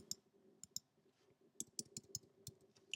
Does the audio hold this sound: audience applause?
no